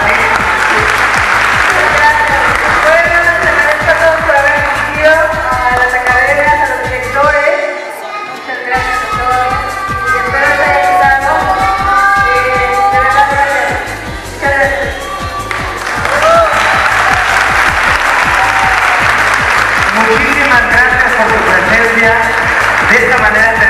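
Loud, sustained applause from a large audience at the close of a live artistic event, steady clapping over about twenty seconds with a brief dip in the middle, mixed with crowd noise and a voice speaking over it.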